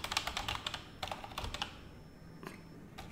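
Rapid keystrokes on a computer keyboard while entering a firewall command on a RHEL 7 system, clustered bursts of close, crisp clicks with a short pause before a few final taps.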